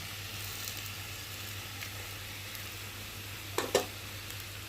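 Taro, potato and prawns stir-frying with spices and ginger-cumin paste in a pan, a steady low sizzle close by, with a couple of brief louder scrapes of stirring near the end.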